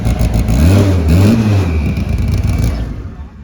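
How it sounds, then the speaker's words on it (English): A drag-racing car engine revs up close and loud, its pitch climbing and falling through a couple of throttle surges before easing off. "I rev it up and the RPM doesn't shut off"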